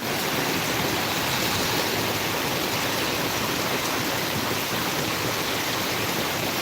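Steady downpour around Thrissur and Kodungallur in Kerala, a thick, unbroken roar of rainfall, close and uniform from start to finish, heard alone.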